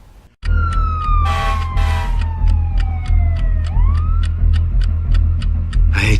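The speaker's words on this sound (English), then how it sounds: "I hate sirens." A siren in a movie scene wails through a falling then rising sweep before settling into a rapid, repeating electronic yelp, loud and close over a low engine rumble.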